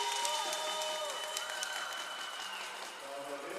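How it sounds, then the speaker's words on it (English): Fans cheering and applauding in an arena during a timeout at a ringette championship game, a continuous crowd roar with clapping, whistles and shouts carrying through the hall. "You can hear the fans cheering."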